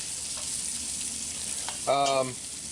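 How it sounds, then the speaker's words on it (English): Onions softening in a pan for a chorizo chili give a steady, even sizzle throughout, with a short voiced sound or scrape breaking in near the end. "we're gonna cook that until we soften these onions up"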